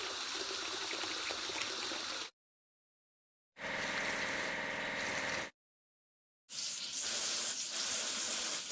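Water spray washing a toy-style excavator in a kids' vehicle game, heard as three steady hissing bursts of a few seconds each, separated by silence, with no talk.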